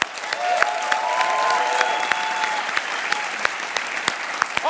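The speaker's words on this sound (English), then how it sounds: "Students and competitors, please give yourself a round of applause because you all deserve it." Steady audience applause at the 2018 Imagine Cup World Championship, honoring students and competitors; dense continuous clapping with a few whistles and faint cheers near the microphone.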